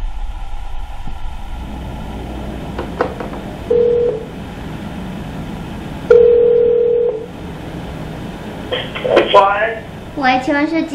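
A telephone call being placed: a few short keypad beeps, then two steady tones of about a second each, followed by quicker chirping electronic beeps and a voice near the end.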